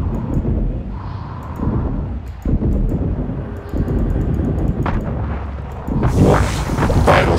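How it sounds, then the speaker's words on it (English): Deep rumbling booms and roaring blast noise from an explosion in the video game Prey, sustained and loud with crackling bursts and rising debris noise toward the end, no talk. "There was an explosion."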